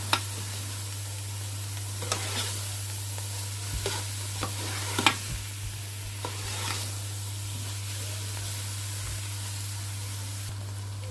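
Saag sizzles in a pan on high heat while a spoon stirs it in occasional close scrapes, over a constant low hum and soft frying hiss.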